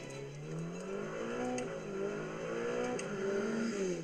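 A Ferrari grand tourer engine drones steadily with a boomy, low tone, rising and falling slightly in pitch as it revs under load, close and continuous.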